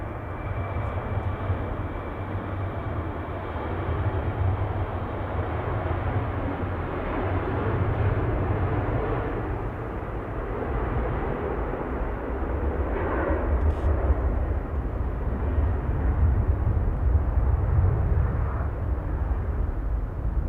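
A Finnair airliner taking off at Manchester Airport, a low rumbling jet roar that swells gradually over twenty seconds and stays strongest in the deep bass, with a few faint clicks on top.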